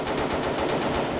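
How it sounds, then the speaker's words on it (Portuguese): Rapid automatic gunfire from a Brazilian video game, a loud, continuous burst of evenly spaced shots heard close up, with no talking. "essa porra parece tiro mesmo"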